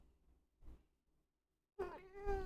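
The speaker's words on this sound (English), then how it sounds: "Oh, I'm being meowed at again." A cat meows once, a short, close, tonal cry near the end, preceded by faint low thumps and near silence.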